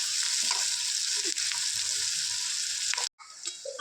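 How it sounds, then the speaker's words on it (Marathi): Onion roasts in oil in a pan with a dense, continuous frying hiss and faint stirring scrapes, close by, cutting out briefly near the end before resuming. "कांदा भाजायला ठेवला आहे तेल टाकून"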